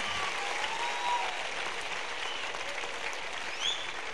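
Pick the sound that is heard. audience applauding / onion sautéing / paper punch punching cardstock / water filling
audience applauding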